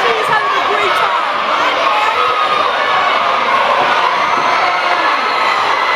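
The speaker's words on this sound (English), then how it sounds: "This is a very exciting crowd" A large school crowd at a pep rally cheers and shouts without pause, children's voices blending into a loud, dense roar that holds steady throughout.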